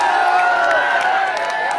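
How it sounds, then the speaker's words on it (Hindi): An audience at a Hindi shayari poetry recital breaks into loud, dense applause with cheering, a continuous wash of clapping that fills the whole short moment. "एक बार जोरदार ताली बजाइए।"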